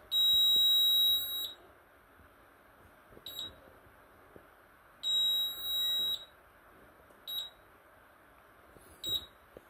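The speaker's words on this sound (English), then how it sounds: "Silence buzzer." A fire alarm control panel buzzer sounds in sharp, loud electronic beeps, two long tones and several short bursts separated by quiet gaps, against a faint room hum.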